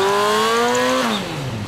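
A motorcycle engine revs loudly and close on a road where motorcycles are checked for speed, a steady high whine whose pitch drops as it passes.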